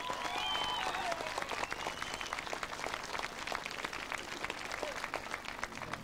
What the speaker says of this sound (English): a big round of applause for Neil Breen here